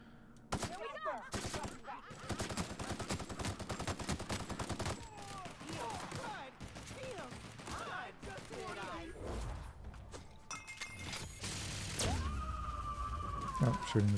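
Gunfire in The Outer Worlds, repeated rapid shots and bursts of automatic fire over a busy game soundscape with mechanical clanks and a quieter stretch near the end, a voice speaking at times.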